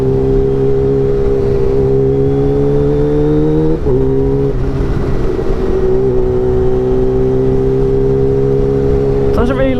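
A Kawasaki Ninja H2 motorcycle on a test ride, its engine droning loud and steady at speed, with a sudden quick-shifter gear change cutting the pitch partway through and another brief shift near the end.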